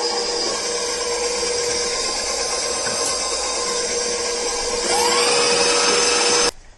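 Earl Grey blondie batter being mixed, a steady, loud motorized whir that holds constant, rises slightly in pitch near the end, then cuts off abruptly.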